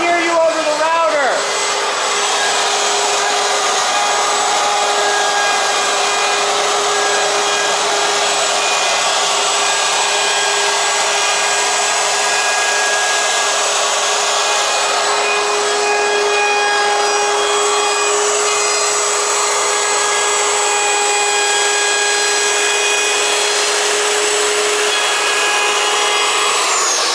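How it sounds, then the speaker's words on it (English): A wood router routes along workpiece edges, a loud, steady, high-pitched whine that runs unbroken and close for the whole stretch. "I can't hear you over the router."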